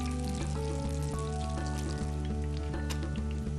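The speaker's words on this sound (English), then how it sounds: "The final stage is to fry the ingredients in oil." Tempura pieces frying in hot oil, a dense, steady sizzle that fills the whole moment, close and constant with no talking.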